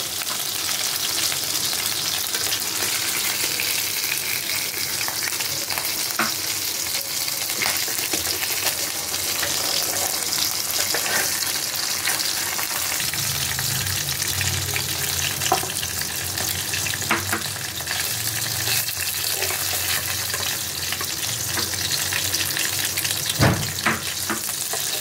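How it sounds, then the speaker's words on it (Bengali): Fish sizzles and crackles steadily in hot oil, a dense close frying hiss throughout with occasional stirring and scraping sounds, no one speaking. "মাছটা ভাজা হয়ে গেছে, মাছগুলো আমি এখন আস্তে আস্তে তুলে নিই।"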